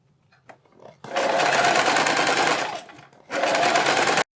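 A sewing machine stitches net fabric for a party wear gown in two loud, steady runs, the first longer, separated by a short pause, with faint handling sounds before it starts.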